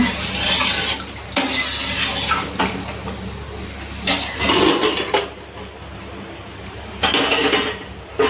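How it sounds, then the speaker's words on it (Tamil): Chicken biryani stirred in a pot after water is added, with repeated scraping and clinking strokes of a spoon against metal in bursts, mid-loud and close, with a faint sizzle underneath. "தண்ணி ஊற்றி நல்லா வந்து கலந்து விட்டுலாங்க."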